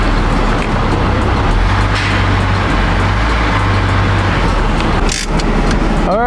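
Warmed-up BA/BF Ford Falcon engine running during a cooling system overhaul, a loud, close, continuous idle rumble with a brief shift near the end.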